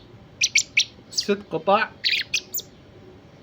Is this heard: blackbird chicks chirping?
yes